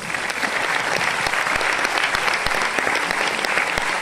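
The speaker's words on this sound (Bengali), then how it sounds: "তো সেটাই জন্য চাইবো আমাদের টিম ম্যানেজমেন্টের জন্য একবার জোরদার তালি হোক" An audience applauds the team management at an indoor recognition program, a dense, loud burst of clapping from many hands that holds steady for several seconds with no voices over it.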